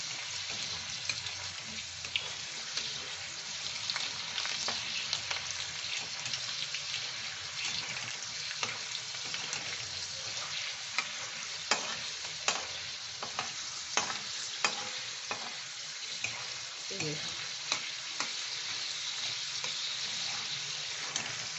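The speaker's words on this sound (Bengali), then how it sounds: "এইভাবে ভেজে আমি সবটা ভেজে নিয়ে আসছি" Corn kernels fry in oil for crispy corn, making a quiet, continuous sizzle with scattered pops and small clicks from stirring, heard alone throughout.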